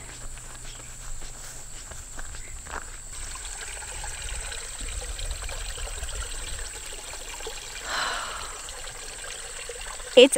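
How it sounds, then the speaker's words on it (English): Spring water trickles quietly and steadily in a small outdoor stream at Antietam National Battlefield, Maryland, with faint rustles, a soft shuffle of steps, and a brief louder splash at the end. "I can hear the spring."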